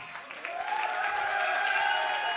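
An audience at a motivational business seminar claps steadily, a moderately loud, even patter of many hands with some crowd voices mixed in.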